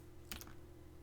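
A brief quick burst of a few computer keyboard keystrokes entering a router command, close but faint against a quiet low hum, with no speech.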